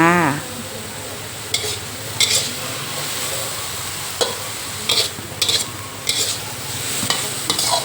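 Chili, baby corn and pork are stir-fried in a pan with a steady, lively sizzle. A spatula scrapes and clanks against the pan in repeated sharp bursts.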